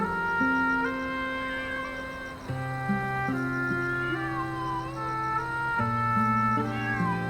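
Kittens meowing late at night: several thin, wavering mews overlap and follow one another continuously, close and fairly soft, with no talking.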